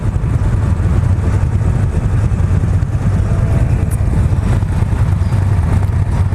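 2017 Victory Octane motorcycle with blacked-out stock exhaust pipes, a loud, steady, deep engine rumble held close throughout, fairly tame with no clear revving, and no voices.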